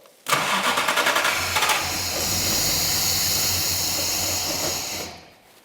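A car engine in a workshop cranks over for about a second and a half of rapid rhythmic turning, then catches and runs steadily with a hissing, loud idle before cutting off abruptly near the end.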